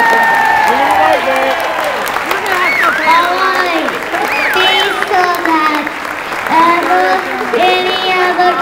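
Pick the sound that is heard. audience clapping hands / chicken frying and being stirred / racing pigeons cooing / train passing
audience clapping hands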